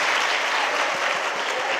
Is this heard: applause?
yes